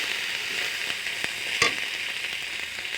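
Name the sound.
spices being fried (bhuna) with turmeric and salt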